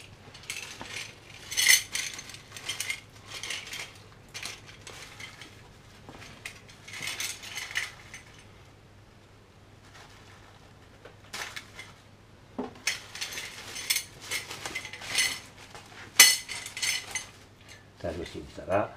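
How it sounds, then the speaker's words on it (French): Loose metal bolts for a Honda HRH 536 lawnmower clink and rattle as they are handled, in clustered bursts of small bright metallic taps with quiet pauses between, close by, over a low steady hum. "Nous avons des boulons."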